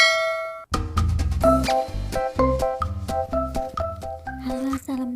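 A single bright notification bell chime rings out alone and lingers for a moment, then cheerful music with a steady beat comes in and plays loudly to the end.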